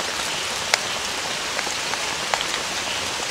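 Heavy rain falls steadily on a surface at a riverside campsite, a dense, even hiss with occasional sharper drops striking close by, and no voices.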